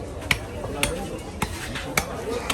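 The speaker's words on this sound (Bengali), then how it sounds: "সে হোটেলের মাংস এখন কাটছি" A butcher chops fresh beef at a busy meat market in Jhenaidah, Bangladesh, with five sharp, evenly spaced cleaver strikes about half a second apart, heard over steady market noise and background voices.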